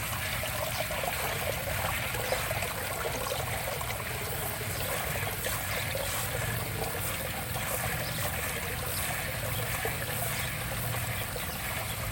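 Water runs steadily while a hand is rinsed during garden planting of tomatoes, peppers and cucumbers, a constant close splashing trickle with no break.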